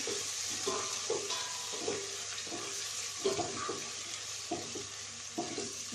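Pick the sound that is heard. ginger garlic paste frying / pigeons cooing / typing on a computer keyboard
ginger garlic paste frying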